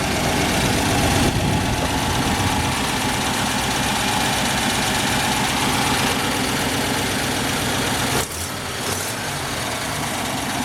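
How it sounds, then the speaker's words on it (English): A 1941 Buick Super Eight convertible's straight-eight engine idles steadily and loudly up close, with a rough, knocking rumble from a small exhaust manifold leak that dips slightly near the end. "We'll fire up the motor for you here and let you hear it run."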